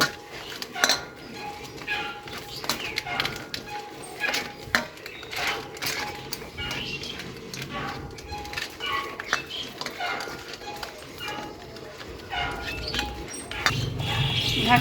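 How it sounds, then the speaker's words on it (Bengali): Fresh catla fish pieces worked with spices in a bowl, a rustic village kitchen: close, irregular clinks and clatters of metal utensils and dishes with soft squelchy handling, birds faint behind. "মাছগুলো আমি সুন্দর করে মাখিয়ে নেব"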